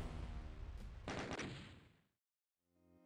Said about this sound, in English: The death explosions aren't very satisfying anymore.